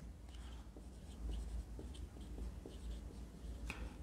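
Pen or marker scratches out a math equation on a writing surface in a tutoring session, with short, soft strokes repeating unevenly over a steady low background hum and no talk.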